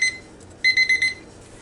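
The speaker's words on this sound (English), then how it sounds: "my timer is telling me that it has cooked for 45 minutes" A kitchen timer beeps in a quick burst of four high electronic tones after a single short beep, loud and close, with no voices.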